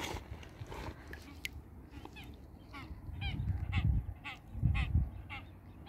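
Ducks and geese call outdoors at a picnic, with repeated nasal honks and quacks scattered through the clip. They sound moderately close over a low rumble of wind and background activity.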